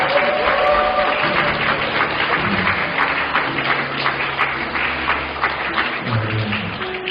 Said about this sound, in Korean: 뒤에 왔는데 뜨거운 박수 좀 해주세요.